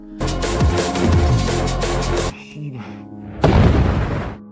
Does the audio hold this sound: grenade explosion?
yes